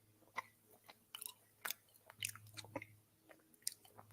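Close, wet chewing and biting on food, with irregular smacking and crunchy bursts over about four seconds, quiet overall with a low steady hum beneath.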